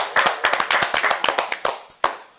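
Audience clapping on a talk show, a short burst of sharp close hand claps in a loose rhythm that thins out, with one last isolated clap near the end.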